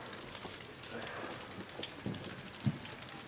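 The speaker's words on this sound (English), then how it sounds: "it's raining" Steady, soft rain patter on a foggy night with a few louder drops hitting a surface close by on a front porch, continuing evenly throughout.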